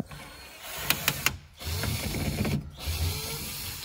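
A cordless drill drives a screw while a sound system is fitted to a Tofaş car: a few short mechanical ratcheting bursts, then a longer whirring run, close by with no talk.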